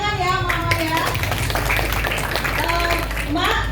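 An audience claps at a small business event in Jogja, steady continuous applause under loud overlapping voices.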